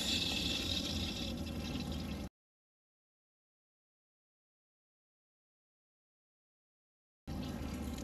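Water draining from an RV unit at a permanent campsite, a steady rushing flow that cuts to silence for several seconds and then resumes at the same level.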